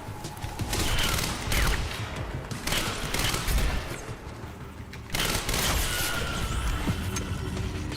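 Advanced SMG fire in the Quantum Break video game: dense, rapid bursts of automatic gunfire that stop briefly and start again, loud and close across the whole stretch.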